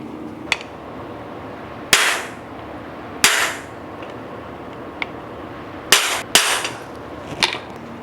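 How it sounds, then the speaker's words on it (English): Metal cam bearing being hammered into an LS engine block for a Pontiac Firebird Trans Am build, giving sharp, loud metallic blows spaced irregularly, some single, some in quick pairs, with quiet shop pauses between. "we are going to hammer this in all the way to this outer edge"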